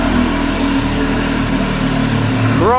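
A Ferrari 360 Challenge Stradale engine running steadily at a loud, close idle-like drone, its pitch starting to climb right at the end as the car pulls out.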